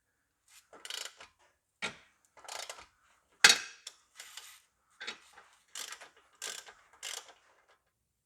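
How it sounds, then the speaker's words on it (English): Socket wrench with a 14mm socket cracking loose the ball joint retaining bolt on a Mazda CX7 front lower control arm, heard as a series of short, close ratcheting clicks in irregular bursts with pauses, alone in a quiet space. "Undoing the ball joint retaining bolt, 14mm spanner, 14mm socket,"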